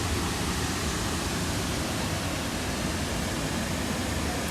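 A waterfall in Croatia roars as a steady, dense wash of rushing water, constant and fairly close, with no talk over it.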